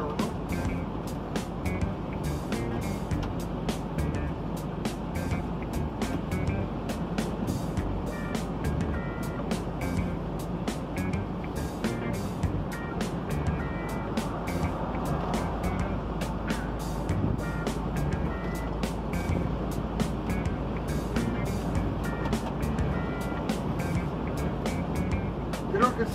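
A MAN truck from 2016 driving, heard from inside the cab: a steady low engine drone and road rumble with rapid ticking clicks, while someone talks throughout.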